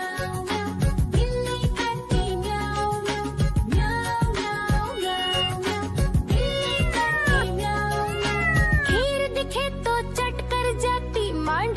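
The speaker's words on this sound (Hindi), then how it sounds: "बिल्ली करती म्याऊ" Repeated cat meows ring out over a bouncy children's Hindi nursery-rhyme tune, the rising and falling mewing calls bunched together near the end above steady music.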